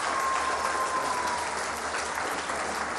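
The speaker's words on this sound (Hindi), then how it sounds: "बहुत सारी तालियां" Studio audience at a Pakistani television iftar transmission breaking into warm, sustained applause, dense and even, with no talk over it.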